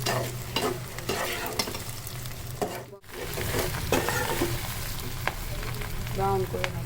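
Garlic frying in a pan until brown, a close, steady sizzle with repeated stirring scrapes and clinks, briefly cut off midway before resuming, no voices.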